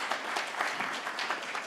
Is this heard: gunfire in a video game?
no